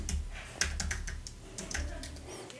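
Quick keystrokes patter on a computer keyboard, close and fairly soft, as a temporary two-word phrase is entered into an account connection screen.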